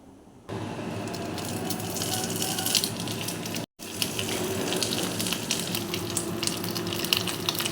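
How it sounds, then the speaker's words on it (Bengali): Onion fries in a pan with a steady, close, watery sizzle that starts abruptly and carries on with a brief cut midway, no voices over it. "পেঁয়াজটাকে ভালো করে ভেজে নেবো"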